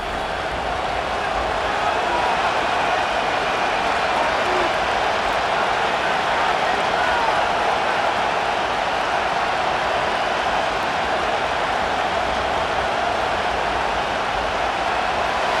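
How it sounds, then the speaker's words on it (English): Stadium crowd noise from the Madden NFL 25 video game during a Chargers versus Broncos PS5 simulation, a loud, dense, steady roar that holds throughout with no clear breaks. "The crowd making their presence felt."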